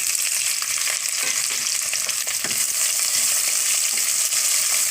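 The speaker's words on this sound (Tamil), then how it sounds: "வெட்டி வச்சுருக்க பெரிய வெங்காயத்தை சேர்த்துருங்க" Chopped big onions sautéing in hot oil with fennel in a pan, a loud continuous sizzle broken by frequent scraping stirs, close and without speech.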